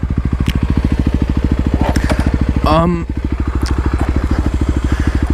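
A Kawasaki KLX351 single-cylinder engine idling with its idle set slightly low after secondary throttle blade removal, a steady rapid thumping pulse close by, with a short burst of higher-pitched sound partway through.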